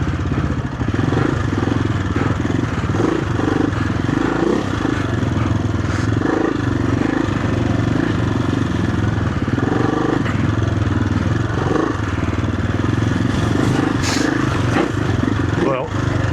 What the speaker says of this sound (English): this is where the bike really makes a difference, because you're rolling through the mud like it's nothing.